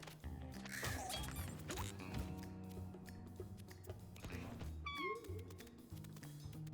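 Cats meow repeatedly in a video game, with several distinct kitten-like cries rising over a busy mix of game music and clattering effects.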